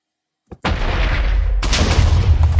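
A cannon shot from a ship striking another ship in a video game: a brief click, then a loud, sustained boom with a second heavy impact burst partway through, close and powerful.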